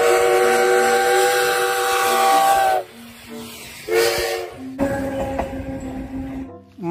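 A toy Thomas train sounds loud, close, whistle-like horn blasts in several bursts separated by brief gaps, with a mechanical hum of the toy running beneath.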